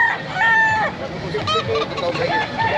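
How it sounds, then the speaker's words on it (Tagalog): Roosters crow repeatedly among gamefowl hens and cocks of sweater, kelso and hatch lines at the Bocaue pet market, with clucking and faint market voices in the background. "Dami pang mga manok."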